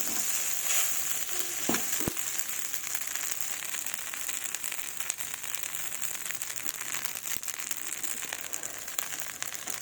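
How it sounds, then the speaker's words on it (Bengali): Leftover rice with chopped coriander leaves fries in a pan, giving a steady close sizzle and crackle throughout with occasional scraping stirs and no talking. "আবার এটাকে এইভাবে ভেজে নেব।"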